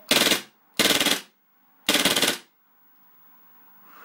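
KWA MP9 gas blowback airsoft submachine gun firing fully automatic: three loud, rapid bursts of sharp rattling shots with brief pauses between them, then quiet.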